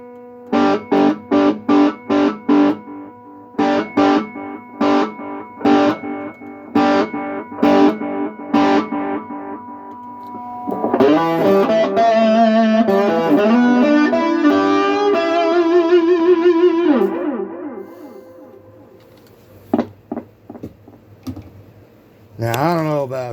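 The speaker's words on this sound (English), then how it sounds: "Put the echo up about halfway." Electric guitar played through an old Marshall 12R amplifier with the echo set about halfway: spaced picked notes, then a sustained strummed, distorted passage with trailing repeats, ending in a few short plucks, loud and close.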